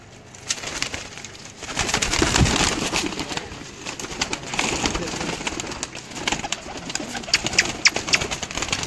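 Pigeons cooing in a loft, soft throaty coos repeating amid rustling and scuffling, with a dense, busy background of many birds close by.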